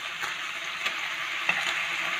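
Kofta patty frying in a pan and being flipped, a steady bright sizzle with a few soft scraping taps from turning it, no voices.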